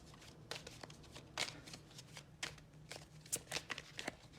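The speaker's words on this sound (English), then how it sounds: "I'm like giving it like a great grand old shuffle. Like, cards are moving, flying all around." A deck of tarot cards is shuffled over and over, with brisk riffles and flutters repeating in irregular bursts, close and clear, with no voice over it.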